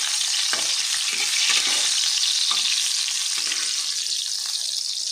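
Pointed gourd slices fry in hot oil after being turned over in a covered pan, giving a steady, close sizzle with occasional soft crackles and scrapes and no speech.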